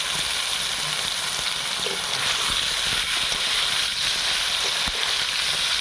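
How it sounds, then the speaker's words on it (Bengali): Diced potatoes rubbed with salt and turmeric frying in oil left from frying fish, giving a steady, dense, loud sizzle with occasional small pops, close up. "আর মাছ ভাজা তেলের মধ্যেই আলুটা ভেজে নেব।"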